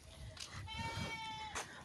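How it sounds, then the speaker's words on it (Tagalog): A goat bleats once in a drawn-out, nasal cry at moderate distance, with faint background noise and a short sharper sound near the end. "yung kambing ni Kuya, oh. Kambing."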